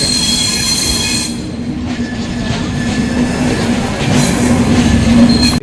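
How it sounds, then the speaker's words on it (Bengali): The Jammu Tawi Express pulls out of a station, its wheels squealing in a loud sustained metallic screech over the rumbling rail noise, heard close by without speech. "আমাদের ট্রেন এখনই ছেড়ে দিল"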